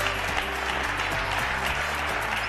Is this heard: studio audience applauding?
yes